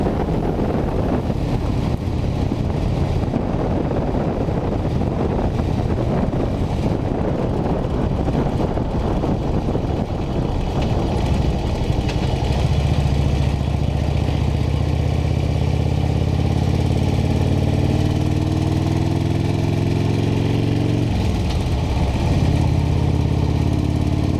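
A Honda Gold Wing motorcycle cruising the Million Dollar Highway, its engine a steady drone under heavy wind rush, with the engine pitch shifting and rising partway through.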